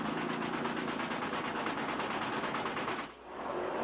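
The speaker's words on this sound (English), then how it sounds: "you can hear the tire flapping around" A race car under caution with a damaged left rear tire produces a continuous rapid flapping, rumbling roar, dense and loud throughout, briefly dipping before resuming.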